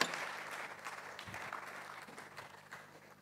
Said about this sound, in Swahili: Haujapiga vizuri makofi, piga tena makofi